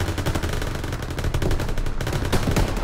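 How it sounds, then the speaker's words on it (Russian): Sustained machine gun fire in the Call of Duty WWII video game, rapid dense bursts of gunshots crackling loudly and continuously with no pause across the whole stretch. "Пулемет, открыть огонь!"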